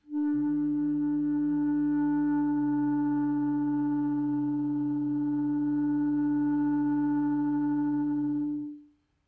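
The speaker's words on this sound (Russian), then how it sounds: "их частотное соотношение будет приводить к биению. И кларнет начнет заводиться как вертолет." A clarinet holds a steady split tone made with the son fendu technique, two close pitches beating against each other for about nine seconds and then cutting off, loud and alone.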